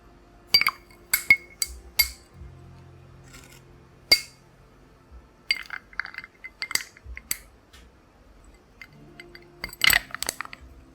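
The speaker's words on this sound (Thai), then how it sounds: "ใส่น้ำแข็ง" Ice cubes drop into a glass one after another, giving sharp separate clinks and clatters with short pauses between them. It sounds close and quiet, with a soft low hum under it and nobody speaking.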